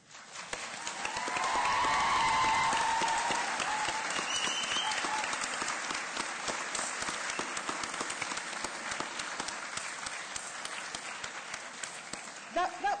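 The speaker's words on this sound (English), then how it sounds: "So can I ask you to stand and offer your applause to the staff who've supported you during your studies." A standing graduation audience applauds the staff, a large crowd clapping steadily and loudly for over ten seconds, swelling quickly at the start, with faint cheers and voices mixed in.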